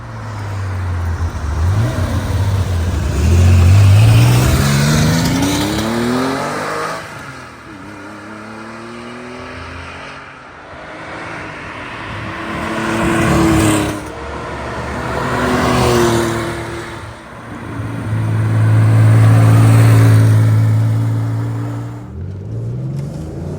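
A 1973 Porsche 911S Coupe roars past several times, engine rising and falling as it approaches and fades, loud revving passes separated by quieter gaps.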